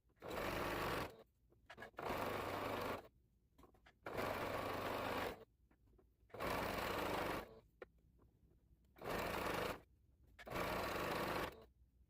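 A sewing machine stitching a slouchy cardigan in loud, steady bursts of rapid whirring, six runs of about a second each separated by short quiet pauses, no talking.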